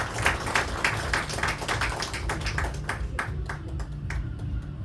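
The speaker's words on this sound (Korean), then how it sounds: "박수하겠습니다" Audience applause at a Korean church emergency joint prayer rally, greeting a lawmaker introduced on stage; a steady patter of clapping from a moderate-sized crowd over a low hum, fairly close and even throughout.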